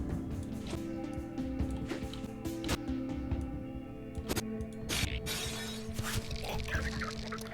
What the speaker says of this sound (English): He heard a glass break.